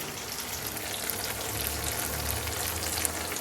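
Chopped tomatoes hit hot oil in a pan while cooking dal, setting off a steady, dense sizzle and crackle that holds for a few seconds with no voices over it.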